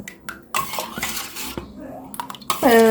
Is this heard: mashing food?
yes